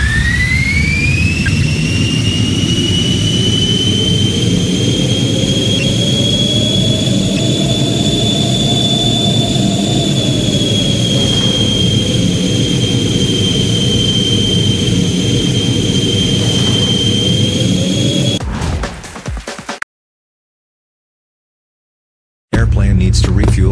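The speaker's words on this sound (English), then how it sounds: "Take the fighter jet AMP. Eliminate enemy. Shoot down two enemy jets." A fighter jet engine in an airplane video game roars as a loud, steady whine with a slowly shifting pitch, then cuts off abruptly near the end before briefly returning.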